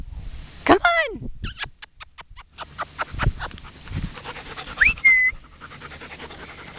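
Six-week-old Welsh puppies pant and scuffle nearby, with rapid breathy panting bursts, a couple of high squeaky whimpers, and a person speaking softly in between.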